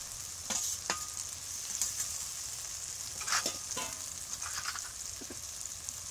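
Chili paste sizzles and fries in a hot pan for dahi chicken curry, a steady crackling hiss broken by brief stirring scrapes and spits, with no voices.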